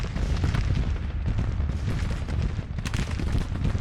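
An infantry division firing at long range in the Civil War strategy game Grand Tactician, a continuous rumbling crackle of distant massed gunfire with low booms, steady throughout and without voices.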